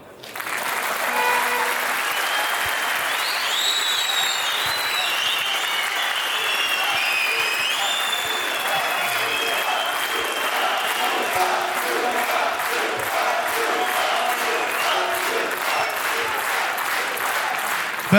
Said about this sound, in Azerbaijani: Vüqar Əbdülov da alqışlayaq.